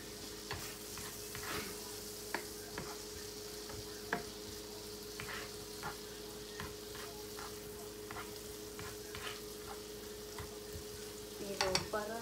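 Ginger and garlic frying in a pan, a steady soft sizzle with occasional stirring clicks and scrapes, a brief louder clatter near the end, no talking.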